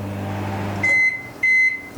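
A microwave oven emits two short, clear electronic beeps a moment apart as its buttons are pressed, above the low hum of the running appliance.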